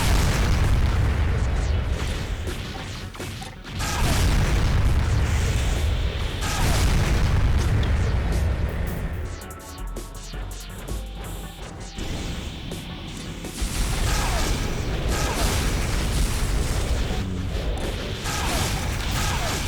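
Mech weapons fire and explosions from Armored Core 2 Another Age on the PS2 pound away continuously, loud booms and crashes stacking up with a brief quieter dip midway before the barrage resumes at full intensity.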